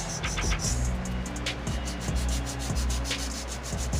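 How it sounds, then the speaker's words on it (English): A nail file works an acrylic nail in quick, regular back-and-forth strokes, a close scratchy rasp repeating about twice a second over a low steady background hum. "Take your file. We are going to start filing."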